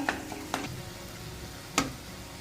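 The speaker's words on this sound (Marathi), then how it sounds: "मस्त मिक्स करून घेऊया छान असा मसाला आपला तयार झालेला आहे" Masala for a dry drumstick (shevga) vegetable dish being mixed in a pan, with a soft sizzle underneath and a few sharp spoon knocks against the pan.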